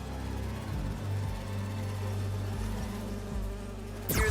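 Holographic bee wolves in the Spider-Man 2 video game make a steady, close insect-like buzz with a low droning hum beneath it, continuous for several seconds before ending in a sharp burst.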